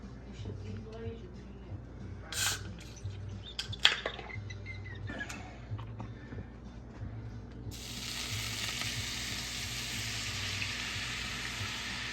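Guinness poured into a hot stew pan to deglaze it, starting as a low sizzle under speech with a few knocks and scrapes, then bursting into a loud, steady hiss that carries on to the end.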